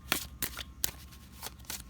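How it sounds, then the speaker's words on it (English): A Gilded Tarot card deck is shuffled quickly up close, giving about six crisp, separate riffling bursts with short pauses between them. "Show you how it looks to shuffle so you can get an idea of how smooth it is."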